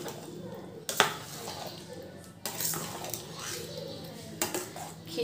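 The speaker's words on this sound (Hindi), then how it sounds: "खिचड़ी को ऊपर से नीचे अच्छे से मिक्स कर लेंगे" Khichdi being stirred and mixed from top to bottom in a cooking pot: a spoon scrapes and clanks against the metal pot in a few distinct knocks, with soft wet stirring between them and a voice talking over it.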